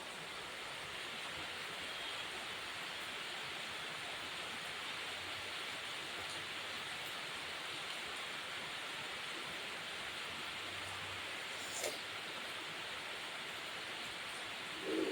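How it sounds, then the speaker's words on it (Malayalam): Summer rain falling steadily outdoors, a dense even hiss of droplets that holds unchanged for the whole stretch. "മഴ മഴ മഴ"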